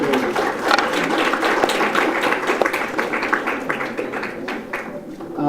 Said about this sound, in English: Please, a big round of applause, please.